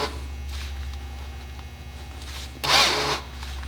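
A brief burst of a power drill whirring near the end, over a steady low electrical hum, with quieter tool noises earlier; the drill bit is bent while drilling into a camper's flat bed.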